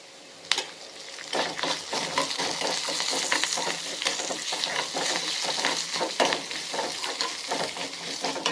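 Cumin and curry leaves fry in a pan with a steady crackling sizzle, close and fairly loud, broken by frequent scraping stirs and light clinks of a utensil against the pan, with no talk.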